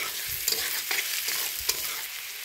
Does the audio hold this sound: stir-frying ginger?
yes